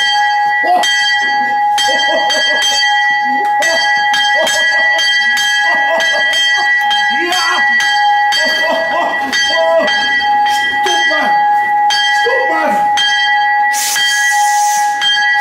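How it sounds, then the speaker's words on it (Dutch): A handheld bell rings at a Sinterklaas event, a sustained bright clanging that runs almost the whole time with voices talking over it, ending in a burst of hiss. "Oh, een echte bel. Dan ga je dan bellen."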